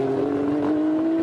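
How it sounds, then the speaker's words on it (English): A GT race car engine at Kyalami drones loudly with a steady, slightly rising tone as it drives past during a qualifying shootout. "It's another car that makes a good noise"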